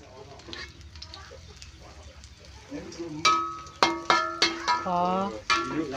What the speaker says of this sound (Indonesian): Digorengi saiki pemirsa.